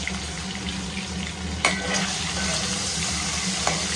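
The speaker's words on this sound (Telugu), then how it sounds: "అటు ఇటుగా ఫ్రై చేసుకొని" Eggs fry in hot oil with turmeric in a pan, giving a steady close sizzle and crackle throughout, with a couple of faint clinks of a utensil stirring.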